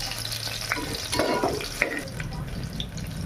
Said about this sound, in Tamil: அதை போட்டு வதக்கிக்கலாம்.